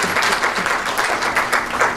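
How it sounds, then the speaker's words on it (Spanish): A church congregation applauds in a loud, dense burst of clapping that fills the whole short stretch, with a faint murmur of voices underneath. "Denle un fuerte aplauso a Cristo."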